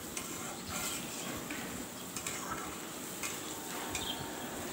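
Soft, steady sizzling of potatoes sautéing with fish in a pan for a Bengali fish curry, with faint intermittent scraping and stirring throughout, at low level and with no speech.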